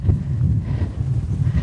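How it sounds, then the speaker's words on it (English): Wind gusts outdoors at a pole-training session for a harness pair, a steady low rumble and buffeting across the mic, fairly loud and continuous, with no talking. "It's starting to get windy."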